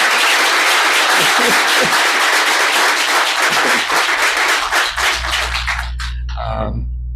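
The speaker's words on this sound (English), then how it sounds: "give him another round of applause and say thank you" An audience at a village board meeting gives a round of applause to thank a man named Jim, loud steady clapping for several seconds that thins out and fades as a low hum remains and a voice begins.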